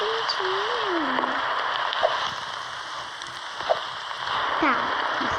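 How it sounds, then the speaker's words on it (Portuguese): Rain in the video game Brookhaven, a steady hiss of falling rain with small scattered chirps and blips on top and a voice faintly in the background. "tá chovendo"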